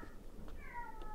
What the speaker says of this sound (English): that's my cat having the zoomies